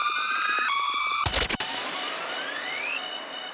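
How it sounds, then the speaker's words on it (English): A wailing siren sweeps up and down over electronic tones in a drum and bass track, interrupted by a brief burst of noise before the rising siren continues. "Backing effects, alarms, sirens,"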